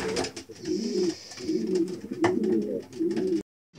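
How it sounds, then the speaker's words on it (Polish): Racing pigeons coo softly after returning from a roughly 170 km competition flight from Połczyn-Zdrój, a close, continuous run of low rolling coos repeating about every half second, then cutting to silence at the end. "przyleciał ostatni 10 gołąb, także z Połczyna jest komplet"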